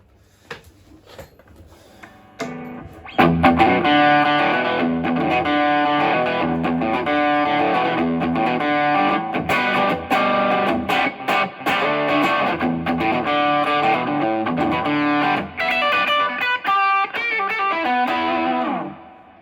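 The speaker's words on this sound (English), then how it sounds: "Now, over to the drive channel. Turn it. Gain is approximately 9 o'clock." Epiphone Casino hollow-body electric guitar played through an amp's drive channel with gain set low, giving a dense, distorted stream of chords and notes that starts after a quiet lead-in and continues steadily for most of the passage.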